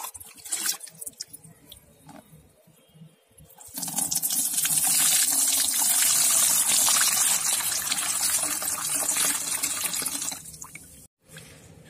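Soaked homemade pest repellent liquid for rose plants being strained, a steady loud gush of pouring liquid that follows a few quieter drips and handling sounds and stops abruptly.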